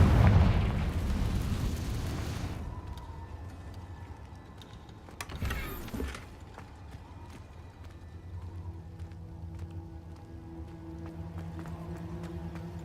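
In the Hogwarts Legacy video game, a Confringo blasting spell bursts in a loud, roaring explosion that fades over a few seconds. A second, shorter blast follows midway, then a low rumble lingers.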